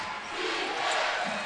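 Crowd noise at Iowa Hawkeyes' home arena during a 2015 NCAA women's basketball tournament first-round game against American: a steady, loud roar of many voices cheering, with no individual sounds standing out.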